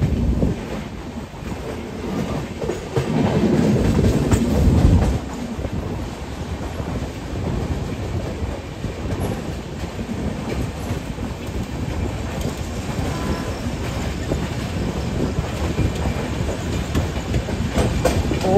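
The Magadh Express rolls past on its Ghaziabad route, a loud continuous rush of rail noise with rhythmic clickety-clack over the track and wind buffeting the microphone.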